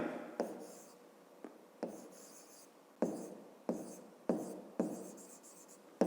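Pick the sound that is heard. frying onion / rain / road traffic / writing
writing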